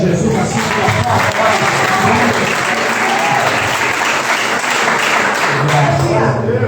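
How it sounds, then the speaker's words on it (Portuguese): A church congregation applauds at a worship service, dense sustained clapping filling the room for several seconds with a steady loud wash and a faint low murmur of voices underneath. "Você pode aplaudir a Jesus assim"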